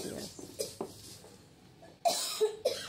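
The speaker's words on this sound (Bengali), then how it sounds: "পেঁয়াজ আর লঙ্কা বাটতে গিয়ে আমার তো কাশি, হাঁচি, চোখের জল সব বেরিয়ে এসছে" Coughing bursts follow grinding raw onion and green chili by hand, a few sharp coughs mixed with brief speech and a clatter of kitchen utensils, close and moderately loud.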